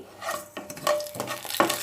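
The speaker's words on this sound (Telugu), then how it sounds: "నూనె కాగిన తర్వాత అందులో కొంచెం మినపప్పు జీలకర్ర ఆవాలు పసుపు కరివేపాకు వేసి త్వరగా వేపుకోండి" Urad dal, cumin, mustard seeds, turmeric and curry leaves tempering in a spoonful of hot oil: short close bursts of sizzling mixed with quick stirring scrapes against the pan, no voices.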